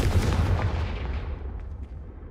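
The Confringo blasting spell from Hogwarts Legacy lands as a heavy, booming blast, a deep rumbling impact that fades away over a couple of seconds with no voices.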